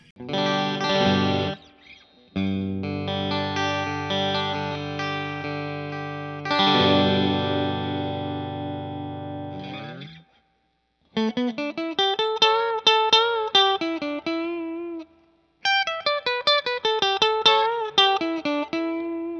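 A PRS DGT SE electric guitar on its bridge humbucker pickup, with chorus-like shimmer, rings out sustained chords, then shifts to a run of plucked single notes, bright and full.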